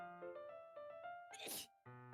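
One person sneezes once, a short, sharp burst that stands out over background music, then the music carries on.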